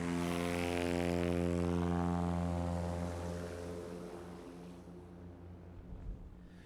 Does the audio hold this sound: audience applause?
no